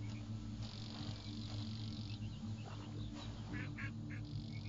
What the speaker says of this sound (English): Oh, hello, Mr. Duck.